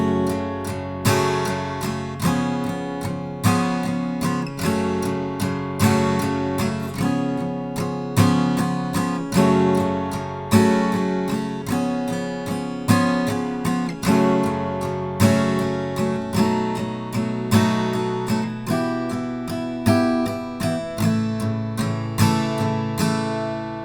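An acoustic guitar fingerpicks the chorus of a song, with steady plucked arpeggios ringing out clearly in an even rhythm, played solo and close without any voices.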